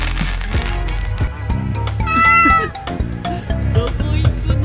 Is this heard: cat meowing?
yes